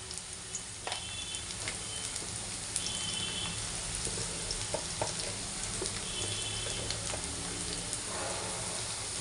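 Onions fry in a pan with turmeric stirred in, a continuous loud sizzle and crackle with scattered spatula scrapes and small clatters over a low background hum.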